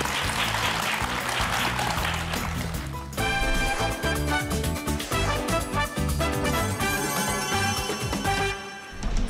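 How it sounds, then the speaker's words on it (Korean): An audience claps after a lecture, with dense, steady applause filling the room, then music with a beat takes over partway through and continues to the end. "큰 박수를 부탁드립니다"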